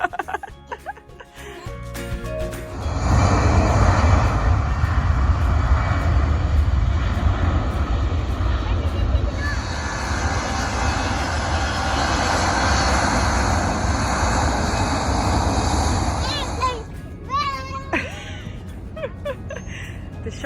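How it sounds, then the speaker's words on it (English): Jet airliners roar from the Charlotte Airport overlook as planes take off and land, a loud sustained engine rumble that builds and holds for about fourteen seconds before fading, with brief voices and a child's giggle at the start and end. "Charlotte Airport has this cool overlook where you can come to watch planes take off and land"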